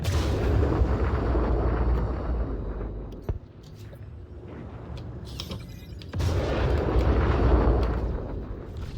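Gunfire and impacts pound a spaceship in the video game Star Citizen, a dense, loud barrage of booming hits that drops out briefly in the middle and then surges back, with no talk over it.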